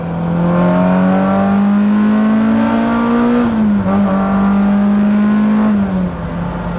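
A Honda K24 four-cylinder engine swapped into a Honda S2000 revs hard and holds high, a loud sustained buzzing drone that climbs, dips slightly, then climbs again before easing off.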